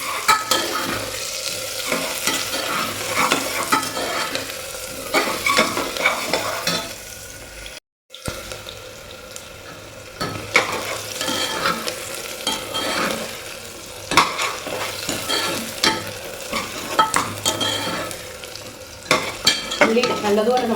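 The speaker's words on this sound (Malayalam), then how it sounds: "ഉള്ളി നല്ലതുപോലെ ഒന്ന് വഴന്ന് കിട്ടണം കേട്ടോ." Sliced shallots and green chillies sauté in oil for a mutton curry: a continuous moderate sizzle with frequent spatula stirs and scrapes against the pan, with one brief dropout. No speech.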